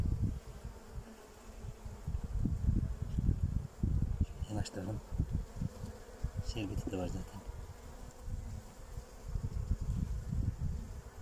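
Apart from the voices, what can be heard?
honey bees buzzing at a hive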